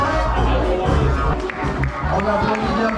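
Crowd near the finish of a mountain ultra race cheering and applauding an arriving runner, a busy mix of shouts, claps and chatter with voices running throughout.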